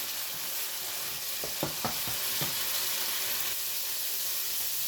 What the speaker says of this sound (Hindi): मसाला हमारा अच्छे तरीके से फ्राई हो रहा है।